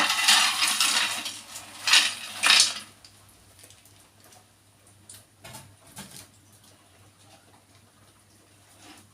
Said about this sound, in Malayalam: ഇനി നമുക്ക് ഈ കപ്പ ഇതിലേക്ക് തന്നെ പകർത്തിയിടാം